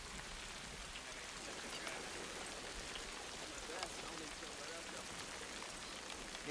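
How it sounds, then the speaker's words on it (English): Rain falling in a scene from the TV war drama The Pacific, a dense, steady hiss of downpour that stays even and fairly soft throughout with no clear voices. "I love the rain scenes, man."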